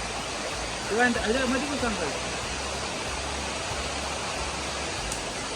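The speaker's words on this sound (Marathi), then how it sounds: "मस्त आलं ना पाणी झपकन" Water rushes steadily through an irrigation channel into a rice paddy field with a broad, constant hiss, and a voice speaks briefly over it near the start.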